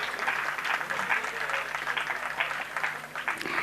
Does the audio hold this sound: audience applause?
yes